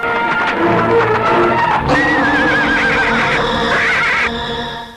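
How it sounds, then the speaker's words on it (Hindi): A horse lets out a loud, close, drawn-out whinny over clopping hooves as a rider arrives on horseback in a Hindi bandit film scene, and the sound fades at the end. "घोड़े पे बैठ के आई है मुन्नी बाई।"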